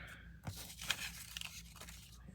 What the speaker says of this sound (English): a piece of coffee dyed paper. Let's tear off a piece of that and add it here.